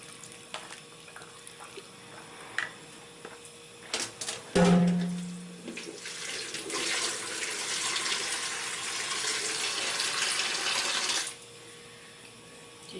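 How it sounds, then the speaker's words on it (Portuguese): Water runs from a kitchen tap into a pot of vegetable soup, a steady close splash and gurgle lasting several seconds after a few clinks and a sharp knock. "Colocar mais água."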